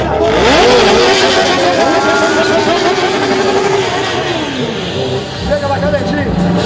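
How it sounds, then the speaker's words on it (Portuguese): A Honda motorcycle engine revs loudly and close, the pitch rising and falling in sweeps over several seconds, with voices and music underneath. "Vem aí, moto Honda, na beira do Samaré."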